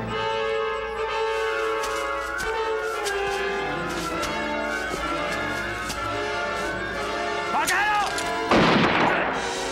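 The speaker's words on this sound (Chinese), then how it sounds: "不是一方面的枪声，是两方面的，他们在枪战呢" Repeated booming gunfire from a battle scene in a period drama, two sides exchanging shots over a sustained musical score, distant-sounding bursts continuing throughout with a louder crash near the end.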